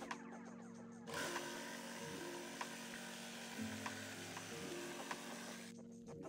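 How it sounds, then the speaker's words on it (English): A cordless jigsaw cuts out a wooden guitar body shape, its blade buzzing loudly and steadily for about four and a half seconds, with pitch wavering as it works around curves, then stopping. "I used a jigsaw to cut out the general shape"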